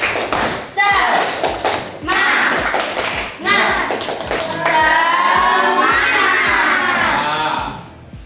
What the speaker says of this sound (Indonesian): Nah, ayo tepuk semangat.